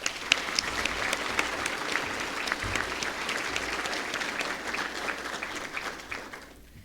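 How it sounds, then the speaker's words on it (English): Big round of applause from the audience at the Walla Walla District change of command ceremony, sustained even clapping with some crisp individual claps, tapering off at the end. "please join me in a big round of applause"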